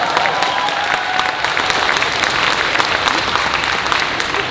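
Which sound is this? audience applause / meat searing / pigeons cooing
audience applause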